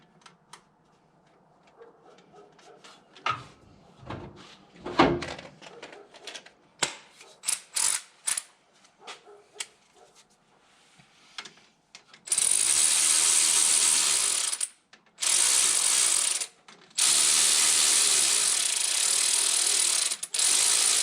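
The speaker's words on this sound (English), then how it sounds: "Next up, got the gear puller." Gear puller being threaded onto the pump gear of a triple-turbo 12-valve diesel engine: scattered light metallic clicks and taps, then long loud stretches of steady ratcheting mechanical noise close to the workpiece.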